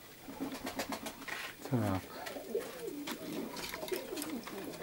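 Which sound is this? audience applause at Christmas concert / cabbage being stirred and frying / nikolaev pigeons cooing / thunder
nikolaev pigeons cooing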